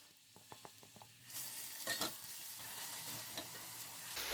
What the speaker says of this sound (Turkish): Pişirme işlemine önce kuru soğandan başlıyoruz.